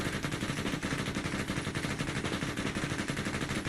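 Sustained machine gun fire in Arma 3 during a combat game, rapid continuous bursts loud and dense throughout, with no talk over it.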